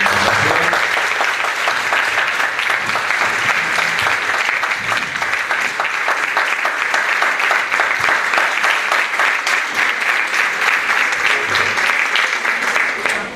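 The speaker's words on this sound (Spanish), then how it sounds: "Aplausos para ustedes." An audience at a group presentation event breaks into sustained, loud applause that holds steady for the whole stretch, a dense wash of clapping with no break.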